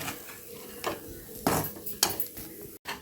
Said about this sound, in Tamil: நல்லா மசாலா பொருள் நல்லா பரட்டி விடுங்க